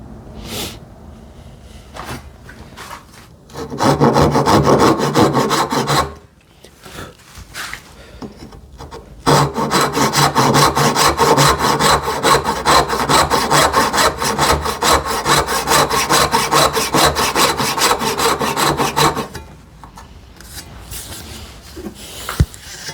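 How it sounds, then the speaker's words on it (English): A hand saw cuts wooden dovetail joints for a TV unit, with rhythmic rasping back-and-forth strokes in two long bursts, the second lasting about ten seconds, separated by brief pauses and light handling taps. "Now I have to cut the dovetails."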